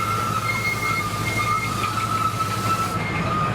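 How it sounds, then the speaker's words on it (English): An amusement park train engine running at Pleasurewood Hills, heard close and loud as a continuous rumbling drone with a high whining tone on top, steady throughout with no voices. "Really nice engine on this one actually."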